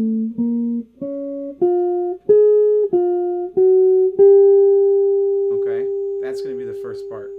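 A slow single-note jazz electric guitar line: about seven distinct picked notes stepping up and down, ending on a long held note while a voice talks over its fade.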